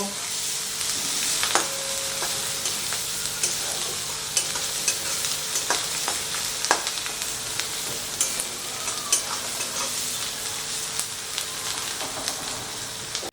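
Onion, green chilli and chopped garlic fry in a pan with a continuous crackling sizzle, broken by frequent light clicks and scrapes of a spatula stirring, steady and close throughout.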